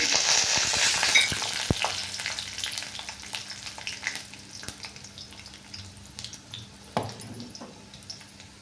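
Garlic cloves and dried red chillies frying in oil give a bright, loud sizzle that gradually softens, dotted with sharp crackles and spatters, with no voices.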